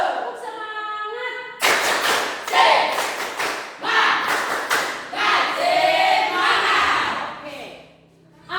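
A classroom of schoolchildren claps a rhythmic spirit clap in loud, sharp bursts of unison claps with short pauses, voices chanting along between the groups of claps.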